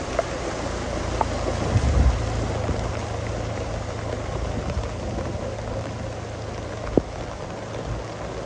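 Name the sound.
rain during flooding in Jaffna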